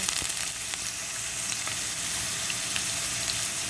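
Garlic and ginger fry in canola oil in a pan for Sichuan chicken, giving a loud, close, continuous sizzle with faint crackles throughout and no voices.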